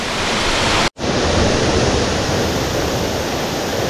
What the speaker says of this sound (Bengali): এই হলো ছাঙ্গে ফলসের জলধারা, ঝর্ণা হয়ে ওপর থেকে পড়ছে